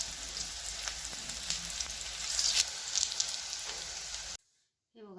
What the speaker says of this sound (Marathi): सुरुवातीला बारीक गॅसवरच वड्या तळून घ्या